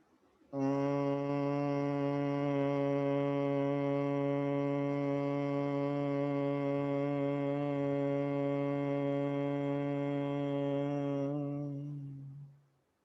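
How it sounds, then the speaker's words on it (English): A single sustained, buzzy hum made with a constricted throat during an exhale, held steadily for about eleven seconds, close and even in volume, fading out at the end with no other sounds. "constrict your throat and create a humming sound like this"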